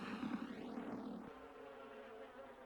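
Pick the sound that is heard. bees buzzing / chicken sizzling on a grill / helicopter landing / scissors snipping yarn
bees buzzing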